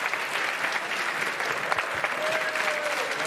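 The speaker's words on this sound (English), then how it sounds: "As the well-deserved round of applause starts to come in for Leo Margets." Spectators at the World Series of Poker Main Event final table applaud a player's seventh-place finish, a steady, moderately distant wash of clapping with a few scattered louder claps.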